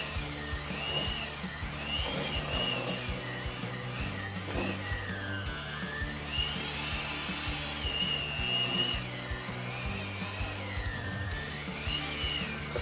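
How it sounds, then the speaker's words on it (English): An electric mixer whirs continuously at a low level through chocolate chip cookie dough, its motor pitch wavering up and down as it works. "Got my mixer working"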